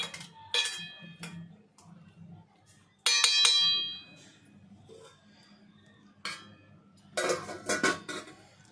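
Gulab jamun are stirred into sugar syrup in a pan, giving scattered metallic clinks and scrapes of a spoon against the pan in short bursts, with quieter gaps and faint background hum between.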